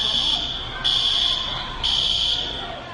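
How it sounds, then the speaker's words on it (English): Piercing fire alarm sounding inside a Walmart store, a loud steady high-pitched tone pulsing in long repeated blasts with short gaps. "A piercing fire alarm sounding in the High Point Walmart off South Main Street."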